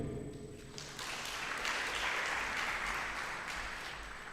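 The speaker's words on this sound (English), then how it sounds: "let's clap for him" A crowd at a book launch ceremony bursts into applause after a moment of near quiet, the clapping building quickly and holding steady at moderate volume.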